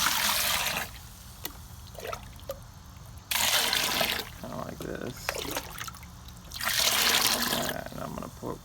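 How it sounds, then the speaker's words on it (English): Pond water pours from a bucket through a mesh bag in bursts, hissing splashes alternating with softer trickles and drips, while a person speaks briefly between pours. "I'm going to pour in the rest of this bucket of pond water."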